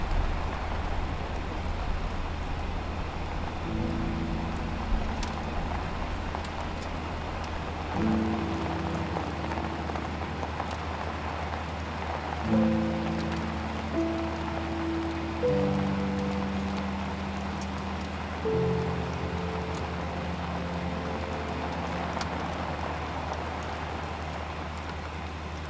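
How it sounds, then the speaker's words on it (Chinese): Rain falls steadily outdoors in a Chinese TV drama scene, a dense continuous patter with soft musical notes drifting over it. No voices are heard. "这雨怎么说下就下呀？"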